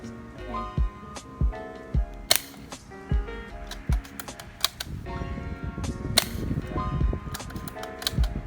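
Airsoft BBs strike a OneTigris plastic mask at close range in a series of sharp, snappy cracks, about a dozen irregularly spaced impacts with short pauses, each crisp and close, over light background noise.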